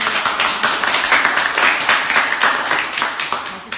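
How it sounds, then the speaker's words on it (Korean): An audience applauds steadily and loudly throughout, with dense continuous clapping at the 4.16 memory archive exhibition hall in Ansan, a Sewol ferry memorial space. "박수."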